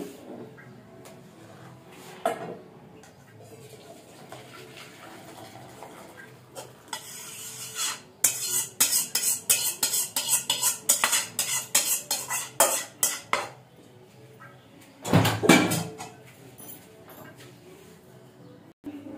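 Cooked dal poured from a cooking pot into a steel bowl in a home kitchen, a run of clattering metal taps and splashy pours, fairly close, with a louder burst near the end and quiet room noise between.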